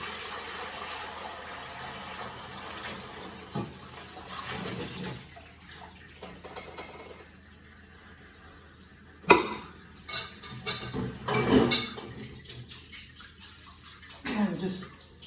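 Irish moss seaweed water is poured into a colander in a kitchen sink, giving splashing bursts and clinks from the colander amid quieter stretches, with a person talking over parts of it.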